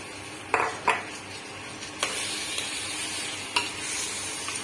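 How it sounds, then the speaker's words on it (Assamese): Meat going into a pan of cumin, garam masala, chicken masala and coriander powder, with a steady sizzle and a few sharp spoon-against-pan clinks from stirring, close and moderately loud. "মাংসটো দিম এতিয়া।"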